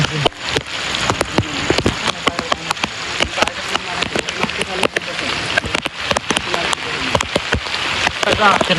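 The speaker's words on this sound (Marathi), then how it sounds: "पाऊस पडतो" Heavy rain pouring down in wet monsoon weather, a loud steady patter with sharp drips and splashes close by, while people talk over it.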